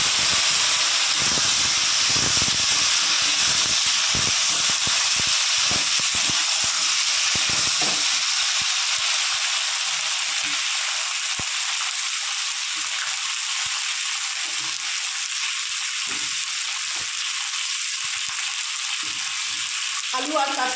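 Potatoes and green bananas frying in oil in a pan with bay leaf, dried red chilli and cumin, a continuous loud sizzle with occasional stirring scrapes, louder at first and settling into a steady hiss.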